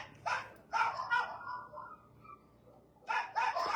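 Rescue dogs bark in short bursts, several sharp yaps at the start and again near the end, with quieter whimpering between them, fairly close and clear.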